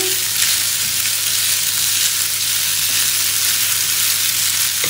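Pasta and egg sizzle loudly in a frying pan as they are stirred together, a dense, even crackle that runs close and unbroken with no talking over it.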